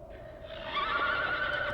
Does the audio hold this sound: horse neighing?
yes